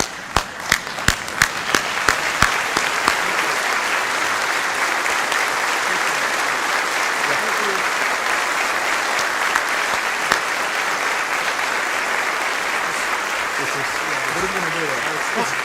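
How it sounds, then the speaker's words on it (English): A standing ovation for a retiring chief at a senior awards event: sustained, dense crowd applause from the start, with a few sharp claps up front before it swells into a steady, loud roar of clapping that holds throughout. "give a standing round of applause for Chief for all of his service"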